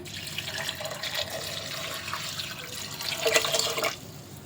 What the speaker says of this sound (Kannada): ಇದಕ್ಕೆ ಇದು ಮುಳುಗೋ ಅಷ್ಟು ನಮಗೆ ನೀರು ಹಾಕ್ಕೊಳ್ತೀನಿ